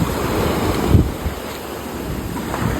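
Rough sea waves surge and wash along the Konkan coast, a steady broadband roar blended with gusting wind noise across the microphone, with one louder thump of surf near the start.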